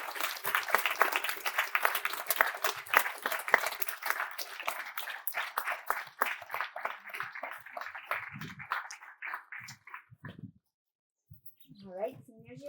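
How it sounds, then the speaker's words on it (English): Commencement audience applauding faculty at a 2025 graduation ceremony, a long dense burst of clapping that gradually thins out and stops, followed by brief voices. "Let's give them a big round of applause."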